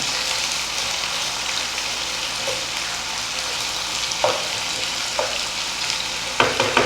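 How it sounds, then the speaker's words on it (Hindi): Onions fry in a pan for a potato and egg curry, a loud, even sizzle with a few light taps and scrapes of a spoon near the end. "अभी प्याज को हम हल्का सा सॉफ्ट होने देंगे।"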